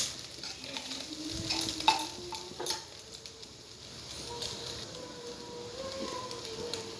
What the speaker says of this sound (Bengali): চাউলটা খুব ভালো করে ভাজতে হবে যতক্ষণ চাউলের থেকে তেল বের হয়ে না যায়